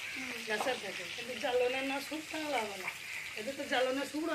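Fish frying in oil in a pot over a wood-fired clay stove, a steady hissing sizzle heard close while a voice talks over it throughout.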